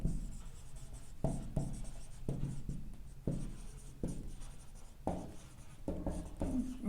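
Chalk or marker strokes on a board during a maths lecture on Laplace transforms, a series of short scratchy bursts in uneven rhythm, close and fairly quiet, with no talking over them.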